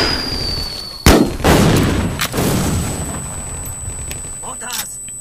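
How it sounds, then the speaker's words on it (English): Mortar fire in the Vietnam war shooter Vietcong, with a sharp nearby blast followed by rumbling explosions and debris under a continuous battle din, a thin high whine running across. "Mortars, they're targeting us."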